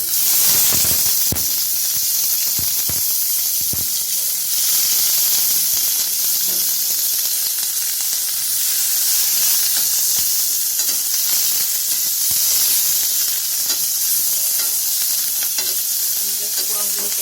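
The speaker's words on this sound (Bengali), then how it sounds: "আর আমি একটু প্রন নুডলস করবো, তাই আমি চিংড়ি মাছগুলো দিয়ে দিচ্ছি।" Prawns sizzle and fry in a pan for prawn noodles, a loud, continuous, close hiss of hot oil with occasional clicks and scrapes from stirring.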